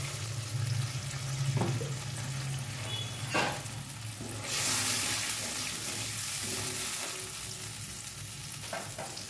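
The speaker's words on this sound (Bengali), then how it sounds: "বাটিটা ধুয়ে একটু জল দেব।" Water runs from a tap while a bowl is washed during cooking of a potato and green peas dum, a brief steady rush in the middle amid clinks and kitchen sizzle.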